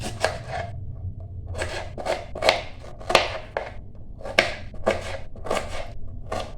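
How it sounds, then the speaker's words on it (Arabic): A knife cuts an onion into large cubes for Palestinian stuffed cabbage, making about a dozen crisp, close chops on a board in an uneven rhythm with short pauses between strokes. "رح نبدأ بتقطيع البصل لمكعبات كبيرة شوية"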